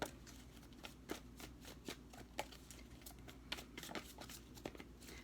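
Tarot cards are shuffled by hand in a steady, soft riffling run with small taps and slaps of the deck, close and quiet throughout, with no voice.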